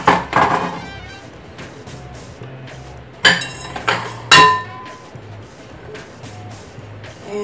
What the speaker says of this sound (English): So, I'm gonna put everything in a big bowl here.